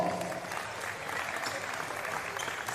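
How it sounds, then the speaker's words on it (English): Crowd applause for a player at a women's basketball championship, a dense steady clapping that holds evenly throughout at moderate level with no voices on top. "Let's give her a round of applause."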